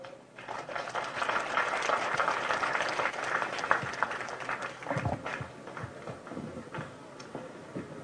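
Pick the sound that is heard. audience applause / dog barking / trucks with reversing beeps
audience applause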